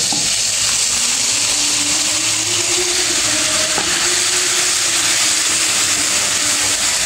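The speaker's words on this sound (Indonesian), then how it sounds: "Tumis hingga bumbu harum dan matang." Blended spice paste sautés in hot oil in a pan, a steady bright sizzle and crackle that runs continuously with faint stirring underneath and no talk.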